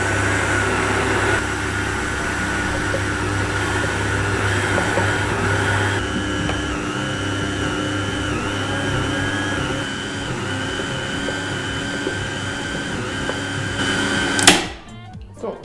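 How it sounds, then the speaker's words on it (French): A blender whirs steadily while mixing a vegan coconut raspberry truffle mixture, a continuous mechanical whine holding for about fourteen seconds before cutting off abruptly with a clatter. "Donc on va mixer le tout."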